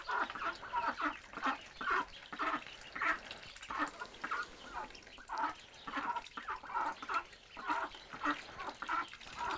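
Ducks quack and chatter in a busy, continuous flock, with overlapping calls close by and no voices.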